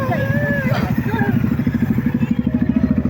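A crowd of motorcycles rumbles past near a church outing, their engines forming a dense, pulsing low drone throughout, with chatter and a voice mixed in over the traffic.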